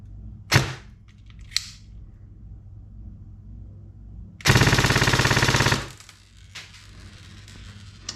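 Airsoft gun firing on full auto at around 17 rounds a second, one sharp single shot and a softer click, then a loud buzzing burst of rapid fire for over a second, close up, with faint handling noises after.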